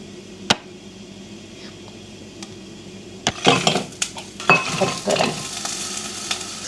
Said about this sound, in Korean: 강불에서 볶아줍니다.